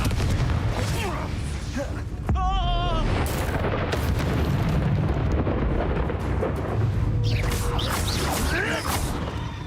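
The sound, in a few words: Confringo explosion spell from video game Hogwarts Legacy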